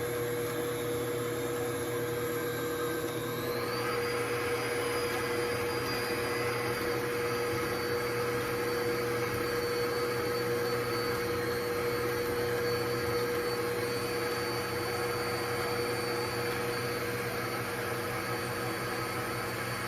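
An electric mixer whirring steadily through lemon cream cheese pound cake batter, a loud continuous motor drone with a faint tonal whine that shifts pitch once early on, then holds unchanged throughout.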